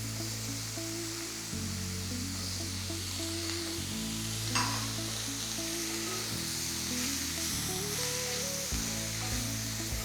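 Carrot and potato pieces sautéing with pepper in a pan, a steady broad sizzle running throughout at moderate level with occasional stirring, no voices.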